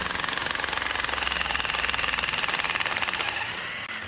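Impact wrench driving a nut on a Toyota Corolla strut during a lift kit install, with a loud, continuous rapid hammering rattle at close range that runs for about three seconds and then winds down.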